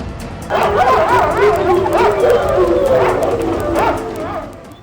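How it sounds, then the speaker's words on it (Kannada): A dog yelps and howls in loud, continuous distress as a leopard seizes it by the neck at night in front of a village house, captured on CCTV; the cries rise and fall alone for several seconds. "ಮೆಲ್ಲಗೆ ಎಂಟ್ರಿ ಕೊಟ್ಟ ಚಿರತೆ ನಾಯಿಯ ಕುತ್ತಿಗೆಯನ್ನೇ ಬಗ್ದಿದೆ"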